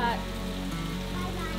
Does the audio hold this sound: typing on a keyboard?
no